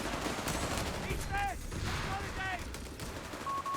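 Dense, continuous battlefield gunfire from the WWII strategy game Company of Heroes 3, with rattling machine-gun bursts and rifle shots layered into a loud, unbroken 1v1 firefight.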